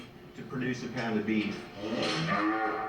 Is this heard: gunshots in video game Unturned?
no